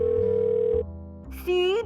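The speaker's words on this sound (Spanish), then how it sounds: "Llama a Madame Gazelle" A cartoon telephone being used to place a call, steady electronic tones stepping in pitch, then a short rising bleep, close and clear.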